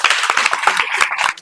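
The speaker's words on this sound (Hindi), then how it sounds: "एक बार ताली बजाइए आप" A group of students in a maths coaching class in Sitamarhi claps in a brief, dense burst of rapid, overlapping hand claps, loud and close, lasting only a moment.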